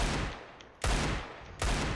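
Video game gunfire in bursts: three sharp, loud shots about 0.8 seconds apart, each with a short decaying tail, heard alone with no talk.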